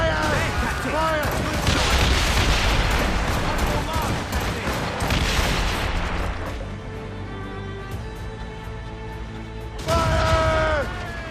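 Naval cannon fire in Assassin's Creed Rogue, ship broadsides booming in rapid volleys during a sea battle, loud and dense, easing to a quieter stretch before another blast, with shouted orders over the barrage.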